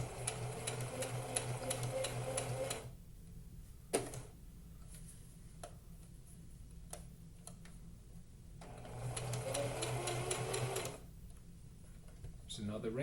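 A sewing machine stitches a cloth mask in short bursts of rapid whirring, pausing between runs for soft clicks as the presser foot is lifted and lowered, with a person talking throughout.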